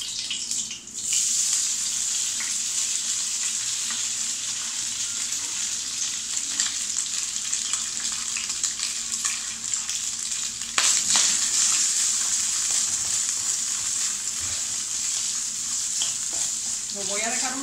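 Ham sizzles steadily in hot oil in a pan, a loud continuous frying hiss with occasional stirring clinks and a brief water sound near the end.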